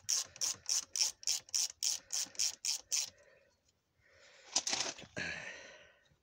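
A ratchet wrench unscrews engine bolts on a Kubota Z402 diesel in an Axiam microcar, about a dozen quick, close clicking strokes in a steady rhythm followed by a pause and a few louder metallic rattles and scrapes.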